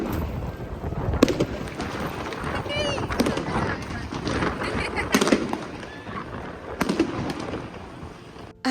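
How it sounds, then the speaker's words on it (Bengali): Fireworks and firecrackers burst outdoors on a windy, stormy New Year's Eve in Rotterdam, sharp distant cracks scattered every second or two over a constant roar of wind, with voices talking now and then. "লোকেরা আজকে সারা রাত এইভাবেই বাজি পটকা ফাটাতে থাকবে"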